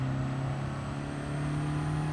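Turbocharged car engine in Gran Turismo 7 revving steadily at high speed, a loud continuous drone with a strong sustained hum and whirring turbo, no pauses or talk.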